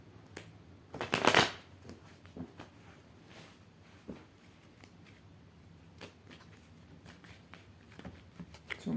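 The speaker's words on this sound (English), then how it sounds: "Let me just shuffle the cards a little." Tarot cards shuffled by hand in a quiet room, a loud riffling burst early on followed by softer, scattered flicks and taps of the deck, close and alone.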